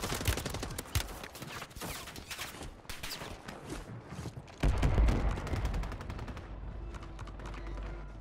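Gunfire in the video game Warzone: rapid automatic bursts of close, loud shots, followed by a heavy boom and a lingering rumble.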